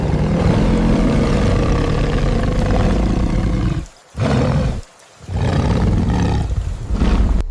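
A tiger roars loudly and close in powerful, sustained bursts, broken by two brief silent pauses before the roaring resumes.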